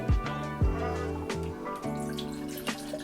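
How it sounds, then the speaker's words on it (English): White rum, about a cup, is poured into a container at close range, giving a series of soft liquid splashes and drips with a few brief pauses and no talk. "once we've got our rum poured out"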